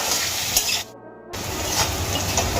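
Spices for chicken curry masala sizzle and crackle steadily in hot oil in a pan, with a brief silent gap midway before the frying resumes.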